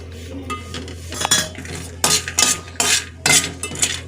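Grated coconut dry-roasting in a pan for mung dal laddus, stirred with a metal spoon that scrapes and clinks against the pan in irregular bursts, close and fairly loud.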